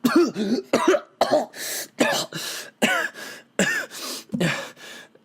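A voice imitates an elderly woman's violent coughing fit during a tabletop fantasy game, a close series of about eight harsh, throaty coughs and hacks separated by brief gasping pauses.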